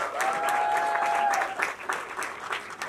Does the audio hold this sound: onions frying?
no